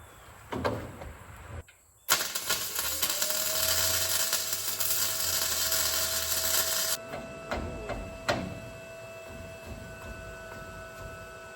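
An Arccaptain MIG welder tack welds a steel bumper, giving a steady crackling buzz for about five seconds after a couple of clunks, then shorter taps and knocks in a workshop with a faint background hum.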